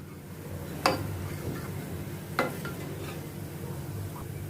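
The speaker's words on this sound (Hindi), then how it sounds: "इन सभी को अच्छी तरह से मैं मिक्स करती हूँ और इनको अनियन के साथ मैं सौते करती हूँ" Spices and onions sauté in a pan for Punjabi rajma, a quiet steady sizzle with a low rumble underneath, broken by two sharp clicks of a spoon against the pan.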